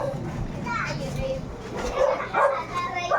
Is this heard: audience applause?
no